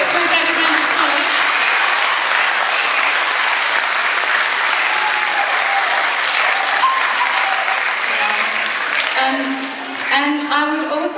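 A dense, loud audience applause fills a performance-day show, sustained and even for several seconds before a voice begins speaking near the end as the clapping thins.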